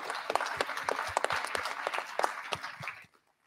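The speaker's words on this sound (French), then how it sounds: "Je crois qu'on peut les applaudir." Applause closing an opening conference session on the metaverse: a modest crowd clapping with distinct individual claps standing out, fairly quiet, then stopping abruptly into near silence.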